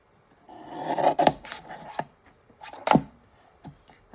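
A handmade paper journal has its edge trimmed with a few rasping cuts close by, each a brief dry scrape followed by short pauses, with sharper snips near the middle and end.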